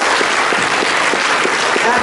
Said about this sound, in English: give Sy Tomashoff a round of applause